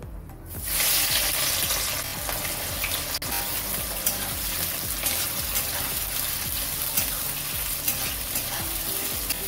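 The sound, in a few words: onions frying in oil with dried chili and whole garam masala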